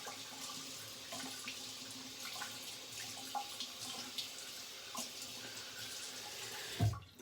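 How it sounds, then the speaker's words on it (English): A bathroom tap runs for a cold water rinse after shaving, a steady close hiss of flowing water ending with a brief splash, no talking. "I'm gonna go cold water rinsing now."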